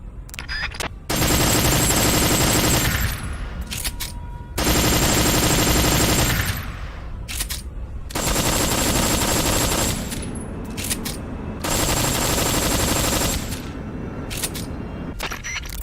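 Rapid automatic gunfire in the video game Metal Gear Solid 3 comes in four loud, sustained bursts, each a couple of seconds long, separated by short quieter gaps.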